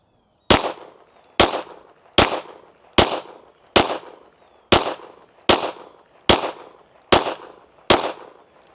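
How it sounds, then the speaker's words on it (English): Ten pistol shots with Steel Valley Casting cast bullets, fired at a target through a Zulisy Oak Plus red dot sight, come as loud, sharp cracks at an even pace of about one per second, each with a short fading tail. "Let's shoot a group at the top left target."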